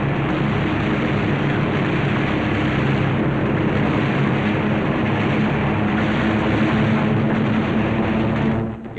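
A WW2 carrier aircraft from the USS Yorktown diving low over enemy airfields and seaplane ramps, a continuous loud roaring engine rush filling the whole stretch, fading slightly at the very end.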